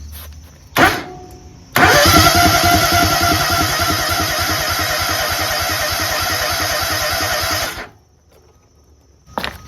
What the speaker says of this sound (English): Now let's crank it again to make sure this hose is getting the fuel coming out.